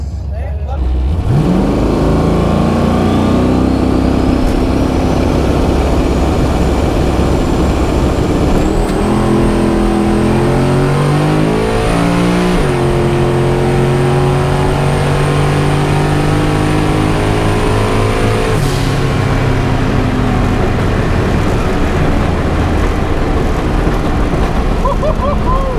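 A twin-turbo LS-powered Chevrolet Nova drag car roars loud and close, its engine pitch climbing hard through repeated gear changes in a sustained full-throttle pull down the strip.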